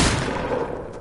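Gunfire aimed at the player in a video game, a dense, continuous spray of shots packed together into one steady rumble that fills the short moment without a break.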